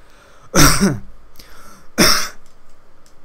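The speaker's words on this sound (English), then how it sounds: "I've got a phlegmy cough." Two loud, wet-sounding coughs close to the listener, spaced about a second and a half apart, with quiet breathing between them.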